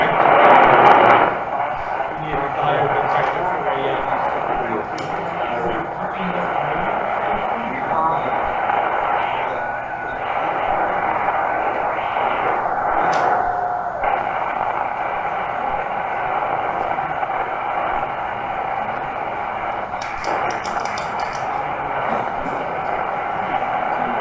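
Ham radio static from antique night gear of about the 1960s hisses and rushes loudly and steadily throughout, with occasional crackles and a faint tone, no clear speech over it.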